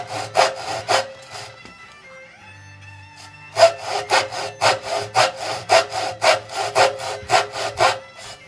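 A hand saw cuts wood for a Greenland paddle with loud, close, rhythmic rasping strokes. A short burst comes first, then a pause, then a longer run of steady back-and-forth strokes.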